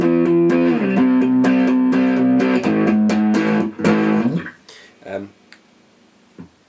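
Crunchy, distorted electric guitar chords from an Ibanez FR420 through a small amp ring out in a steady strummed pattern, then break off into a few short choppy hits and fade.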